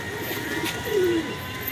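Pigeons coo once in a low, warbling call lasting under a second, close by and fairly clear over a steady background murmur; the birds were brought home from a pigeon market.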